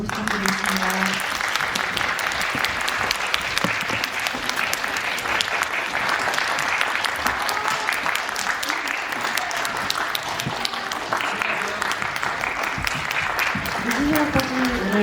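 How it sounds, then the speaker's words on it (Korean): Sustained audience applause fills a cinema after a Korean film screening and stage greeting, dense and steady clapping from a large crowd throughout, with no voices standing out. "퇴장하실 때까지 큰 박수 부탁드리겠습니다."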